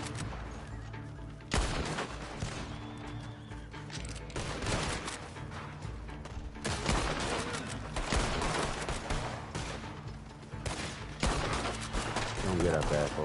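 Gunfire crackles in Red Dead Redemption 2 in repeated sharp bursts and volleys, some near and loud, spread across the stretch, with voices talking in between.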